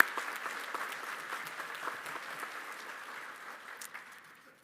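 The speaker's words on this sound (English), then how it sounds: "I think a round of applause is appropriate." Audience applause at a community college commencement, a fairly distant, thin patter of many hands clapping that gradually fades over several seconds.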